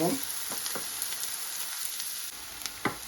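Onions and green chillies sizzle in hot oil in a pan as a dry fish thokku is prepared, a steady close hiss broken by a few sharp crackles and pops.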